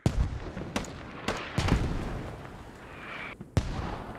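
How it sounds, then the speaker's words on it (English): Mortar fire in the tactical shooter Squad: several sharp, heavy booms and blasts at irregular intervals with rumbling tails, some close and loud, others more distant, with no voices. "Mortars still fucking going away"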